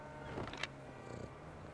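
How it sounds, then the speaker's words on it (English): Cat purring in the game Grand Theft Auto V, a soft, low rumbling purr with a few faint brief clicks and rustles, quiet and close, no speech. "It's purring, guys."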